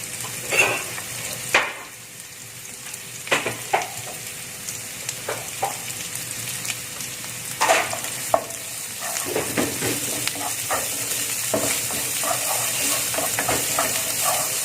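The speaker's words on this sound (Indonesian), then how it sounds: "Saya masukkan cabai dan bawang putihnya." Shallots, chili and garlic sautéed in a pan for tempe omelette, with a faint sizzle beneath repeated spatula scrapes and clinks near the mic; the frying grows louder and steadier toward the end.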